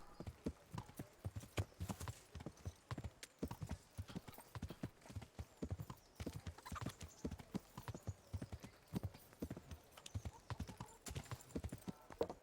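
Horse hooves clip-clop in a quick, steady rhythm from the video game Kingdom Come: Deliverance, continuing throughout, each hoofbeat sharp and close.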